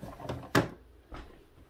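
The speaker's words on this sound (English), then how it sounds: "The drawers pull out." Small plastic drawers of a craft-store washi tape holder slide in and out, producing a few soft scraping bumps and one sharper clack, faint and close with quiet gaps between.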